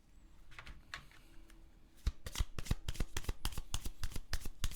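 Oracle cards shuffled by hand, a soft riffle at first, then a dense run of sharp, crisp card snaps and flutters from about two seconds on, close and loud, with no talking.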